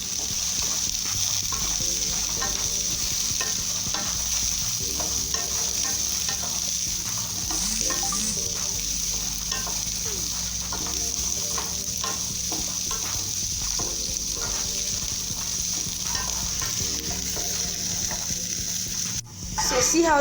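Carrots and peas sizzle and scrape in a hot pan as they stir-fry for Nigerian fried rice, a steady close frying hiss with repeated utensil stirs throughout and a brief louder clatter near the end.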